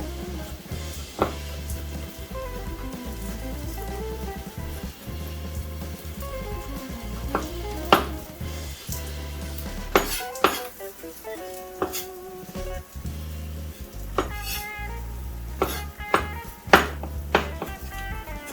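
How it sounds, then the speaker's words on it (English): Garlic cloves smashed with the flat of a kitchen knife, then chopped coarsely on a cutting board: scattered sharp knocks and a short quick run of chopping taps, close and fairly loud, under a steady background hum. "I'm gonna take the flat of my knife and smash them"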